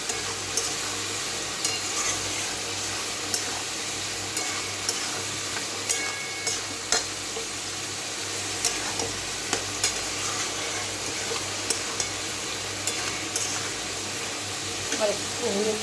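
Ash gourd ghonto with hilsa fish heads being stirred in a frying pan: a continuous low sizzle, broken by regular scraping clicks of the spoon against the pan, with some faint background talk.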